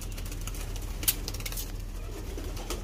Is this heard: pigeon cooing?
yes